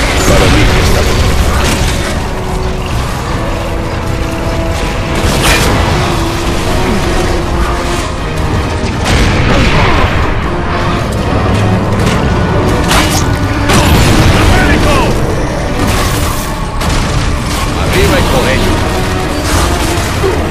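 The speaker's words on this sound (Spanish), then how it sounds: "¡Lanzando granada!" Dense, loud battle noise from the Gears of War 3 video game, with grenade explosions, booms and mechanical clatter blended into continuous gunfire-heavy chaos, with voices in the mix.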